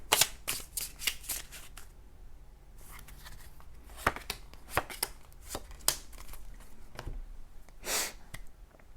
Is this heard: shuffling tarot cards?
yes